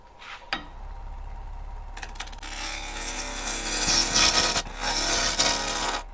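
A woodturning gouge cuts a closed-form wooden piece spinning on a lathe: a few brief scrapes, then a sustained, close rasping shave that swells louder and steadier, with no talk.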